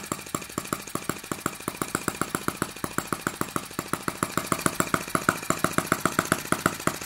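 Small gas engine of a Microcosm T1/T26 Chinese model tractor running, a fast, even chuffing beat of sharp pulses, close and steady, picking up slightly in pace toward the end.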